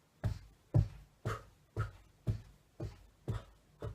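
A runner's breathing pattern, two steps in and two out, performed aloud as eight sharp, evenly spaced breath bursts about half a second apart, close and clear.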